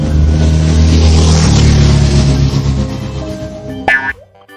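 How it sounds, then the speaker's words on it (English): A loud, steady engine drone with a rising rev, fading out near the end after a brief sharp accent. "Motorcycle"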